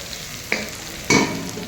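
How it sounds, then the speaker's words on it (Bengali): Onions frying in hot oil for ghugni, with two sharp sizzling bursts about half a second apart, each flaring loudly and then settling back into a quieter background crackle. "প্রথমে তেল দিয়ে ভাজা পেঁয়াজ দিয়ে আমরা আজকে রান্না করব"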